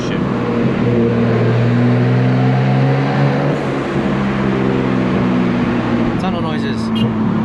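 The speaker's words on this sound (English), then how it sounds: "Tunnel noises." A Nissan Skyline R32 GTR drives through a tunnel, its engine droning loudly and steadily with a reverberant roar that holds throughout, with a brief higher whine near the end.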